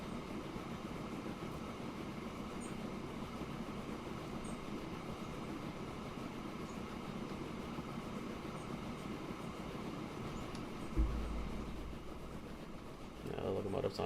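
A locomotive in the video game Transport Fever 2 rumbles along continuously with a steady, even rolling drone and faint clatter, holding a constant level throughout with a slight thump near the end.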